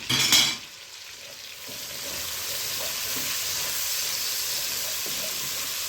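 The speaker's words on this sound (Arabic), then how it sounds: "في نفس الزيت كده او السمنه اللي احنا حاطينها هننزل بالبصل" Onions frying in oil or ghee in a home kitchen pan, a steady broadband sizzle that stays even and close throughout, with a brief louder burst right at the start as they hit the fat.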